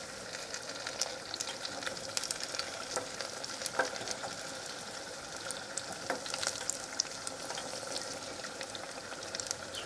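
Chinese chicken wontons cook in a pan with a steady, dense sizzle and bubbling, with scattered crackles and pops throughout and no voices.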